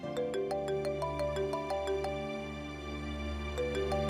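A phone ringtone plays a repeating electronic melody of bright, evenly spaced tones, moderately loud with no talking.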